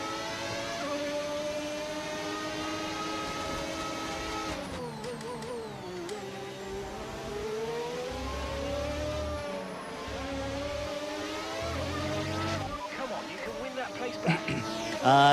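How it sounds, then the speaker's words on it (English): A car in a racing video game fitted with a V12 engine mod, giving a steady, high, multi-toned engine whine that rises and falls through gear changes and revs, with a person talking over it. "No, this is a V12 engine mod."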